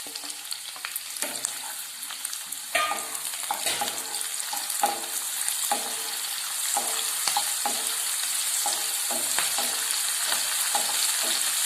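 Kanthari chillies dropped into hot oil for a white pickle, frying with a steady dense sizzle and crackle, punctuated by repeated spoon stirs and scrapes at a regular pace throughout.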